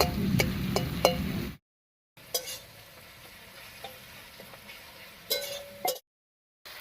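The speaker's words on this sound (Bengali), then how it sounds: "এবারে বেগুনটা নরম হওয়া পর্যন্ত রান্না করে নেব" Eggplant frying in leftover fish oil in a pan: a soft sizzle broken by clinks of a spoon against the pan, with two brief silent gaps.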